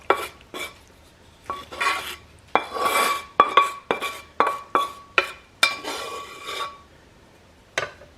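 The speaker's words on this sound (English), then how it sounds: "now we're going to add our ground beef and sauce" Ground beef and sauce go into a pan of noodles, a busy run of metal utensil scrapes, clinks and scooping knocks against the pan in quick irregular bursts, close and fairly loud, with no talking.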